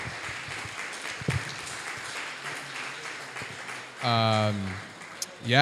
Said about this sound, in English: Let's give a round of applause for Elena and the Fastly team for hosting us